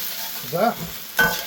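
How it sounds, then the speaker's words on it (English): Onions sizzle softly in a pan with scraping stirring sounds, two brief stirs standing out over a steady low frying hiss. "The onions have been frying for about 3 minutes."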